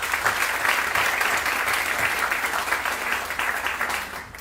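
An audience at a student arts awards show breaks into a round of applause, a steady, full wash of clapping from many hands that holds evenly for a few seconds before easing slightly.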